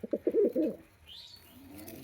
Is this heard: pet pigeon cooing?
yes